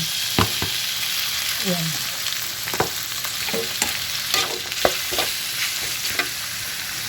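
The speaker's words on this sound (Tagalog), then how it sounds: "Gigisahin mo lang." Leftover pork, washed after being cooked in soy sauce, sautéing in a pan for homemade dog food, giving a steady loud sizzle with repeated scraping stir strokes, and a voice briefly speaks.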